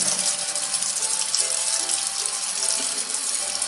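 Water runs steadily from a sink tap into a sink holding a cat, a continuous close hiss and splash with no pauses and no talk.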